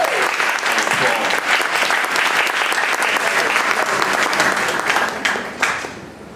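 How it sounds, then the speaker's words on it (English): A gallery audience at a poetry and arts event in Richmond gives a loud, sustained round of applause that fills the space evenly before tapering off near the end. "I want to ask us to just give her a wonderful round of applause."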